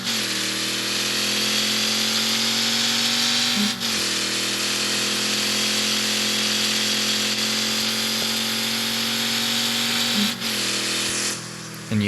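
Car engine in the CPM2 racing game held near redline for a launch, a loud steady sustained drone with brief pitch dips at two moments, alone with no talk.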